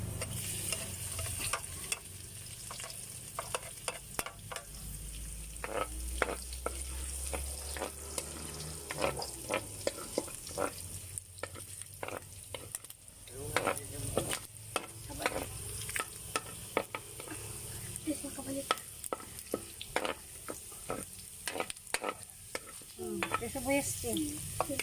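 Garlic fries for pancit bihon in a pan: steady close sizzling throughout with frequent scraping and clattering as a utensil stirs it, busy and continuous with no talking.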